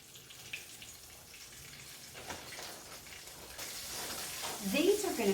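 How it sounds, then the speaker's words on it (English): Buttermilk-and-flour-coated country fried steak frying in a pan, a quiet hissing sizzle that grows louder and crackles more sharply toward the end. "Get these in the frying pan."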